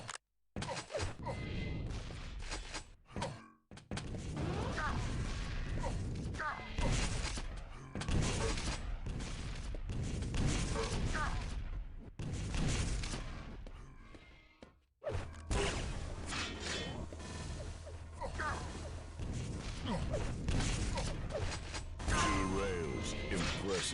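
Rapid gunfire and weapon sounds from a Quake Live duel, near-continuous bursts of shots, whooshes and impacts filling the clip with a brief gap around the fifteen-second mark.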